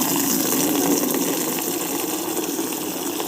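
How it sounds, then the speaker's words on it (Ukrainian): Water gushes steadily from a pump into containers being filled for a household supply at a rural homestead, a continuous broadband rush that stays loud and even throughout with no voices. "водичку набирати, щоб був запас якийсь обов'язково"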